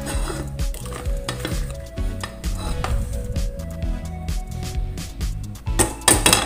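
A little oil heating in a hot Teflon pan before chicken goes in, giving a continuous sizzle, with scattered clinks and knocks of utensils against the pan, close by and without talk.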